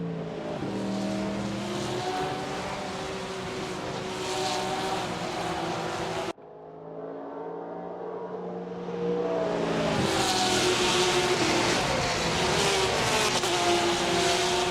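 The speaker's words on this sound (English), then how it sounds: "I want to hear the cars scream very well" Race cars at Spa-Francorchamps pass with loud, screaming engines that rise and fall in pitch. A brief dip in the roar comes before another car passes, its engine roaring louder and closer.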